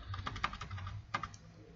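Keystrokes on a computer keyboard as a DIR command is typed into a DOS prompt, a short burst of clicks followed by a pause and a final pair of taps, close and moderately quiet with no talking.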